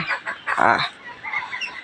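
A male Chinese goose gives one loud, nasal honk close by in the middle of the moment, with fainter fowl calls before and after it.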